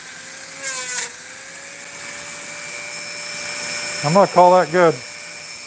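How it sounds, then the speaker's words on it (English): A Dremel rotary tool used for carving hums in a thin, steady high whine throughout, with someone speaking briefly near the start and again toward the end. "Shut off this Dremel and sweep some stuff out of the way here."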